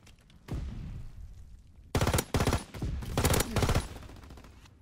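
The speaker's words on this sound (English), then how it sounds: "Flat guns firing, clearing the skies." Flak guns in a video game firing at aircraft, with a booming shot followed by several loud rapid bursts of anti-aircraft fire in quick succession, close and sharp.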